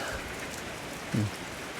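Steady rain falls on a wet morning in a Thai park area, a soft even hiss throughout with one brief low thump midway.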